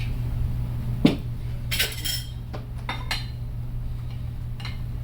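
A metal spoon scrapes and clinks against a bowl while flour and cornstarch are stirred together, giving a few sharp taps and softer scraping strokes over a steady background hum.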